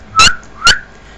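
Two short, bright whistles from a voice imitating a whistle, each a quick rising note, close and loud, with a brief pause between them.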